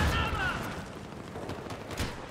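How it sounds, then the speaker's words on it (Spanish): Gunfire crackles in a Battlefield 3 multiplayer match, a burst of rapid shots and rumbling blasts fading into a dense, continuous battle din. "Acá me cagan a tiros."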